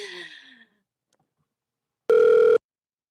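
A single telephone ring on a radio call-in show comes through loud and close: one steady electronic tone burst of about half a second that follows a brief stretch of talk and a silent gap.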